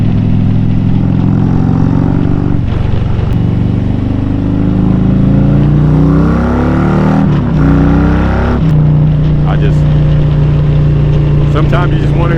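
Loud exhaust pipes on a 124 cubic inch Harley-Davidson Street Glide rev up and down repeatedly, the engine pitch climbing and dropping in close, throaty bursts.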